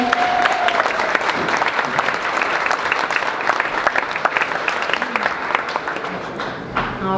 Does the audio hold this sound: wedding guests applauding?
yes